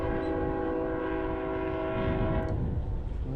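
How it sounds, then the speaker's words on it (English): A long cargo train rolls past on a New York state rail line beside a bike trail, a loud steady rumble with a sustained horn tone that cuts off near the end. "there goes the train. Cargo train."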